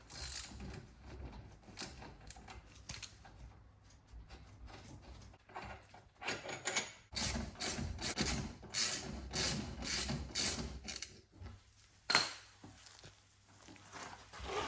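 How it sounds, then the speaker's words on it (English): Ratchet pulling brake caliper bolts on a Porsche GT3, Cayman GT4 or Boxster Spyder during a brake pad change: bursts of rapid clicking and rasping from 7 to 12 seconds, after quieter handling sounds, close and with no talk. "now we can switch over to a ratchet and pull those bolts out"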